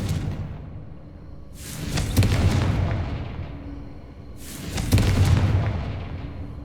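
Two heavy blasts of the Confringo fire spell go off in the video game Hogwarts Legacy, each a loud, booming burst that rolls off into a rumbling tail, spaced a few seconds apart.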